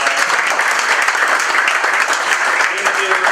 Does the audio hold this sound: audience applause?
yes